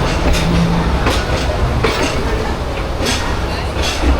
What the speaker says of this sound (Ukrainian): це такий туристичний потяг бігає